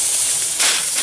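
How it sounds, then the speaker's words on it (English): Steaks sizzle fat-side down in a hot pan with bacon and garlic, a loud, steady hiss that swells briefly about halfway through. "Just throw these steaks on its side like that, cook the fat up a little bit"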